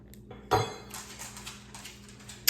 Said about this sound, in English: we're gonna add our chocolate chips on top